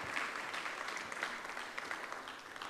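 Steady, dense audience applause fills a hall at a Hindi-Urdu literary book event on Ghalib, a continuous wash of many hands clapping at moderate level without a clear break.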